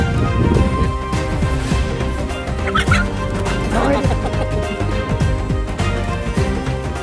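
A chicken being chased by people on foot, its clucks and squawks scattered through a dense, busy mix of background noise that stays loud throughout.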